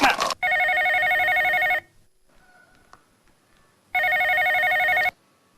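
A telephone rings in two long electronic trills separated by a few seconds of near silence, loud and close, with a brief burst of noise at the very start and no talk over it.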